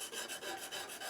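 A sharpening stone rasps steadily over the steel of a drawknife, a close, scratchy stroke repeated in a quick back-and-forth rhythm with brief dips between passes, heard alone.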